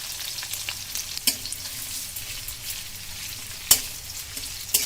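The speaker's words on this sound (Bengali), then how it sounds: "লো হিটে আস্তে আস্তে পেঁয়াজগুলোকে ভেজে নেব।" Sliced onions frying slowly over low heat in oil in a wok, a soft continuous sizzle up close, with light stirring and a couple of brief metallic clicks, no voices.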